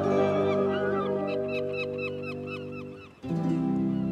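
Cartoon seagulls in a Thomas & Friends animated episode call loudly with a rapid series of honking, squawking cries that fade, then a fresh burst of calls starts near the end.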